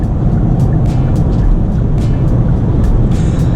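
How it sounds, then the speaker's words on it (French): Steady low road and wind roar inside the cabin of a Hyundai Kona 64 kWh electric car overtaking a truck on a motorway near 130 km/h, a constant loud rumble with faint higher hiss and no talking. "Et on va voir le niveau de bruit dans l'habitacle."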